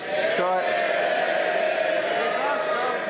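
MPs in the House of Commons cheering and bellowing together, a sustained loud crowd roar with overlapping shouts filling the chamber, voices blending into a continuous din.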